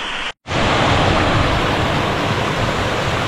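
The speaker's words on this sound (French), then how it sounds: "Trop beau ces cascades avec des piscines." A mountain waterfall cascades into pools, a loud, constant broadband roar of rushing water close by, interrupted only by a brief dropout near the start.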